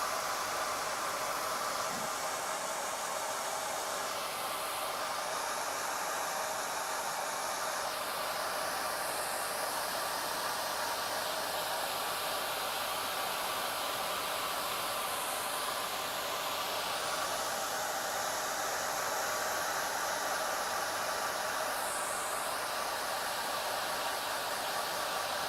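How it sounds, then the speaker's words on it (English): A hair dryer blows steadily with a broad, hissing rush of air, its tone wavering slightly as it moves, continuous and close throughout. "it is drying fairly quickly with a hairdryer"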